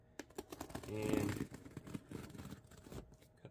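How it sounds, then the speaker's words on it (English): Scissors cutting packing tape on a shipping box for an LED PAR light, a run of faint close snips and scrapes with a brief rubbing swell, while a voice speaks briefly. "cut the tape off here."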